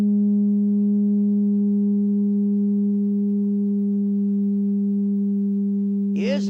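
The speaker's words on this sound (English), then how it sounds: "I'm going to fill this pipe with music" Pipe with a wire screen singing as a Rijke tube, a loud steady pure hum that holds unbroken for six seconds before a brief warbling rise at the end; no talk.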